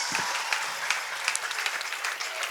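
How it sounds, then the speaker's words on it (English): An audience at a children's talent show applauds the spelling bee champions, scattered, moderately loud clapping with a few sharper individual claps standing out near the listener. "A round of applause to this Spelling Bee champions."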